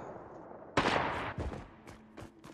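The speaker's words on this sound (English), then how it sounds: "I accidentally shot my sniper first." A sniper rifle fires once in a video game, a sharp loud broadband crack followed by a short decaying tail and a few fainter in-game impacts afterward.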